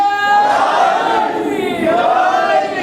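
A crowd at a religious gathering shouts a loud, sustained response to a religious slogan, many voices joined in one drawn-out cry.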